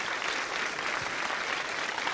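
An audience at a Vice President Kamala Harris event on reproductive freedoms applauds Karen with steady, dense clapping in a large room, continuous and moderately loud.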